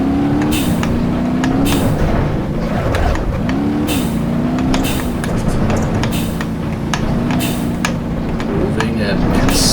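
A rally car in the RallyCat video game accelerates along a road, its engine droning steadily with rising and falling pitch shifts, while a person talks over it throughout.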